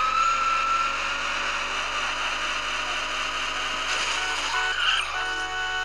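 Car engine roaring at speed in a video game, a continuous steady drone with a slight pitch shift near the end, no talking.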